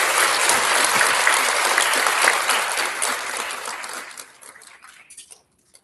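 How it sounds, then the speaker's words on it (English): Loud, dense applause from an audience at an elementary school student recognition ceremony honoring STEM award recipients, sustained for several seconds before tapering off into scattered claps and silence. "Big round of applause for all of our STEM recipients."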